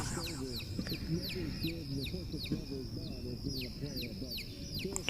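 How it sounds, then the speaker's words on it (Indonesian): Many small chicks peep continuously in quick, high chirps, a busy overlapping chorus heard faintly over a low background hum. "Ini suara anak ayam."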